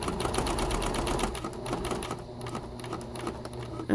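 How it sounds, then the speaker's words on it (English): A sewing machine runs steadily as it stitches a tote bag strap down to the end of the body fabric, a close, fast, even mechanical chatter that eases slightly toward the end, with no voice over it. "So let's sew all the way to the end here."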